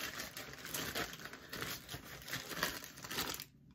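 Cardboard parcel box being opened during an unboxing, with steady close crinkling and rustling of packaging over nearly four seconds before it stops abruptly.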